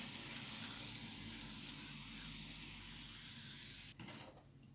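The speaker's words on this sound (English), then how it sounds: "I'll just give them a quick spray of water." A spray bottle mists water over pea shoots sown in compost in a tray, a steady close hiss lasting several seconds that cuts off sharply, leaving faint quieter spritzes.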